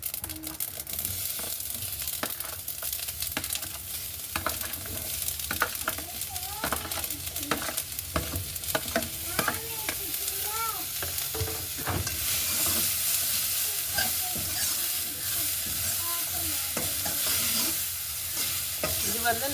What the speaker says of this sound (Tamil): நாங்கள் வட்டி எடுத்து வச்சிருக்கிற கேரட் லீக்ஸ் வெங்காயம் இவ்வளோத்தையும் சேர்த்து இதோட வதங்க விட போகிறோம்